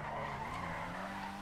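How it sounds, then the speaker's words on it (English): A Volkswagen Gol drifting in GTA 5, its tires skidding in a steady, sustained squeal over the droning engine, moderately loud and continuous for the whole moment, with no voices. "Let's see if I can drift a little bit."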